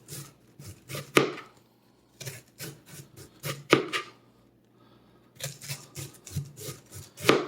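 A knife slices thinly through a head of cabbage on a board for sauerkraut, giving close, crisp chopping strokes in uneven bursts with short pauses between runs.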